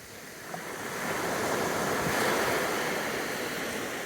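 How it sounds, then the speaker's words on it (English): Large ocean waves roll in and crash on a rugged Pacific shoreline along the West Coast Trail, a loud continuous roar of surf building and holding steady, with some wind buffeting the microphone. "some of these waves coming in are pretty big"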